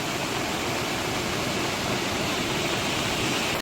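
Strong rain-swollen water rushes through a Konkan stream in a dense, unbroken hiss and roar, close and loud throughout with no other sounds.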